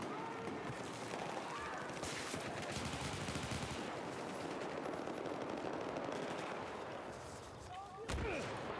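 Faint, distant gunfire from Battlefield 4 rattles in rapid bursts beneath a dense wash of in-game battle noise, with a sharper crack near the end.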